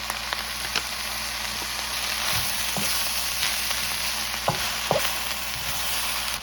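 Dominican chofan fried rice being stirred in a hot pan, a steady close sizzle with scattered scrapes and clicks of the utensil against the pan throughout, no talking.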